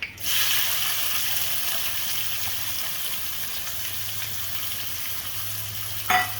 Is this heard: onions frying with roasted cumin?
yes